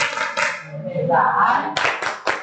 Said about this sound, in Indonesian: Yuk kita lanjutkan pada tepuk yang digunakan nanti pada minggu depan. Tepuk keseimbangan.